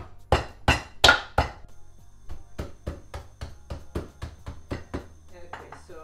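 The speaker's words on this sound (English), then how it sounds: "So keep bashing it." Pestle bashing fresh ginger for ginger wine, a run of about twenty sharp hard thuds, loud at first then steadier and softer, repeated at a quick even rhythm.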